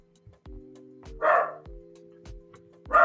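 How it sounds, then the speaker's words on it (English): Several dogs bark in the background on a cold, rainy, gray day, sharp repeated barks coming roughly every half second alongside a steady low hum and a rising whimpery yelp. "Sorry for if you hear the dogs in the background."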